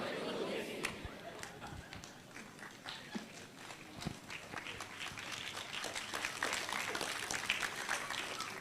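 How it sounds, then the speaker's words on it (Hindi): An audience at a Christian preaching event claps, with a scattered, uneven patter of hands under a speaker's ongoing talk that grows denser toward the end. "देखो सारे पीड़ित ताली बजा रहे हैं।"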